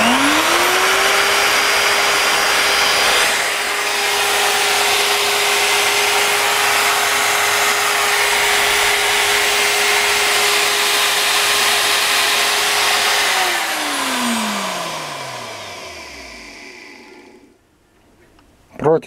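A WEKA DK1403 diamond drill motor with a freshly rewound armature runs up to a loud, steady whine close by, holds it for several seconds, then switches off and winds down to silence.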